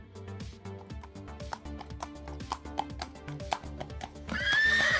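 Rhythmic hoofbeats clip-clop under music, ending with a loud, high horse whinny over the final second.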